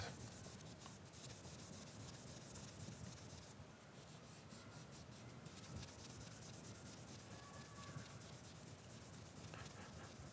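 Soft, faint hand rubbing over the urushi lacquer surface of a raden and nanako-nuri fountain pen at the final polishing stage, a continuous quiet friction with light, even strokes and no voices.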